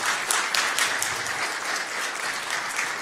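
An audience in a hall in Ohrid applauds, a dense, steady wash of many hands clapping at once, sustained and fairly loud.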